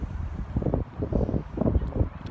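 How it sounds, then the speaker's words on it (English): Outdoor wind buffets a microphone in uneven low rumbling gusts, loud and close, with no clear speech over it. "It's a little windy, you might get some feedback."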